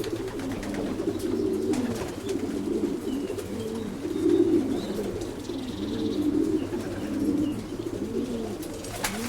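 Racing pigeons bred for middle and long distances coo in low, repeated, throaty bursts close by, several birds overlapping steadily against a quiet loft background.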